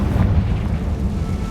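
A Confringo spell cast in Hogwarts Legacy bursts into a deep, rumbling explosion that stays loud and heavy through the whole moment, with no talk over it.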